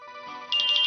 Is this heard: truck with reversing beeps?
no